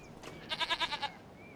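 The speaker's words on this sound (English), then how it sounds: "So we've got the goats in now." Goats bleat in the farming video game Farming Simulator 25, a single close, loud call with a rapid wavering series of about six pulses, standing alone over a faint background.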